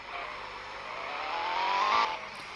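Video game car engine with the gas floored, a rising, sustained revving roar that swells over two seconds, peaks and then cuts off sharply.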